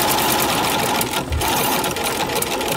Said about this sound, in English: I will go over the first stitch, reverse one stitch.